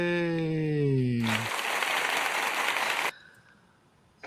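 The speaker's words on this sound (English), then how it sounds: "The random clapping." A burst of scattered clapping as a random sound effect, a loud, even patter of applause lasting about two seconds, preceded by a held tonal sound and cutting off abruptly into near silence.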